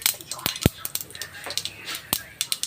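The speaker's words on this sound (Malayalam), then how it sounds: "കടുക് പൊട്ടാൻ സാവകാശം കൊടുത്ത്" Mustard seeds pop in hot oil in a home kitchen, giving scattered sharp crackles and snaps at an irregular rhythm, close and moderately loud.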